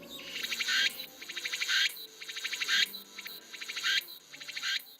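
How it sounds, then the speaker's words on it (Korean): Mating cicadas on Baegunsan in Gwangyang, South Jeolla, shrilling in four loud pulsing bursts, each swelling with rapid beats and then breaking off briefly before the next begins. "전남 광양 백운산의 짝을 찾아 열심히 물어 제끼는 매미의 소리입니다."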